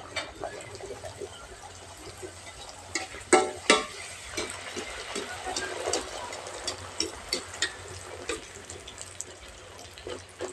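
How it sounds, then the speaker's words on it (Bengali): Luchi puffing in hot oil over a medium flame makes a close, bubbling sizzle with splashy surges and stirring sounds, loudest in the middle, while someone talks faintly over it. "এবার মিডিয়াম জালে লুচিগুলো ছেঁকে নেব।"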